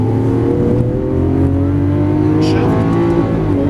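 A 2012 Lamborghini Aventador accelerates hard on a race track, its engine a loud, close roar with rising pitch across the whole run, while a person talks over the noise.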